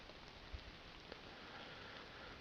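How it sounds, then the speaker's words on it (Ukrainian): Steady rain falls outdoors in the middle of the day after nearly a full day of downpour, a soft constant hiss of drops with no voices and only a couple of faint louder taps. "вже майже сутки падуть дощі. Зараз продовжують, але вже трошки менше"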